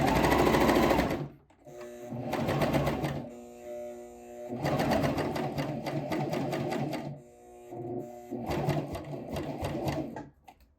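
Sewing machine running a cover stitch along the hem of a knit women's t-shirt, in three bursts of steady rapid whirring separated by short pauses, loud and close with no talking.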